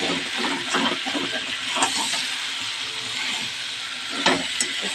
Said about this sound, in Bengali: কড়াইশুঁটিটা দিয়ে একটু নাড়াচাড়া করে